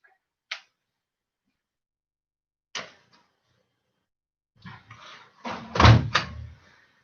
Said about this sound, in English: I'm going to shut that door.